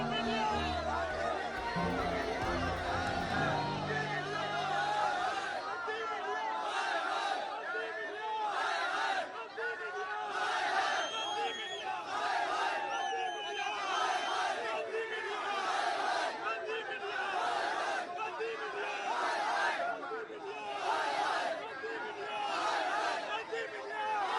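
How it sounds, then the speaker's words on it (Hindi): Large crowd of protesting farmers at a rally, a dense roar of shouting and chanting voices with rhythmic surges of slogans, loud and continuous throughout. "भीड़ लगातार बढ़ चुकी है"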